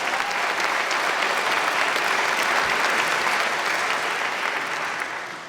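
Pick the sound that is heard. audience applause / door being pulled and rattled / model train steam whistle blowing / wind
audience applause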